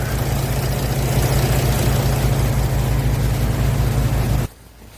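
A 2010 Mercedes E350 engine idles with a steady, low rumbling hum close by during a DPF clean, then abruptly cuts off near the end, leaving near silence.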